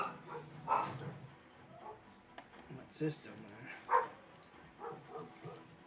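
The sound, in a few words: dogs barking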